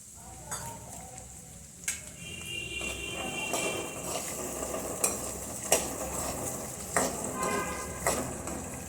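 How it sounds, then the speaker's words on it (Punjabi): Potatoes and peas fry in a pan, a soft continuous sizzle under repeated clinks and scrapes of a stirring spoon against the metal. "ਹੁਣ ਆਪਾਂ ਇਹਦੇ ਵਿੱਚ ਮਟਰ ਪਾ ਕੇ ਮੁੰਗਰੇ ਬਣਾਉਂਗੇ ਤੇ ਮਟਰਾਂ ਨੂੰ ਵੀ ਆਪਾਂ ਥੋੜੀ ਦੇਰ ਵਾਸਤੇ ਫਰਾਈ ਕਰ ਲਵਾਂਗੇ"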